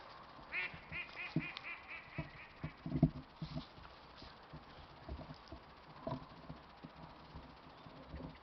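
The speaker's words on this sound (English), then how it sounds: "I don't know if the microphone's picking the ducks up." Ducks quacking outdoors on a fine day, a few scattered quacks standing out over steady ambient noise, some distant and faint, with occasional closer thumps and rustles.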